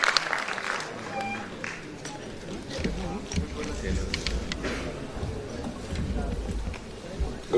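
A conference audience gives sustained applause, many hands clapping in an uneven wash with murmuring voices beneath, swelling and dipping slightly over several seconds.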